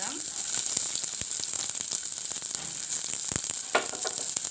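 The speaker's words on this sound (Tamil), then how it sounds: "இப்போ நாங்கள் வெங்காயம் போட போகிறோம்" Sliced onions sizzle in heated oil for a Jaffna-style shark fish curry, a steady broadband hiss running throughout with a few sharp clicks and spatters, fairly close and moderately loud, without talk.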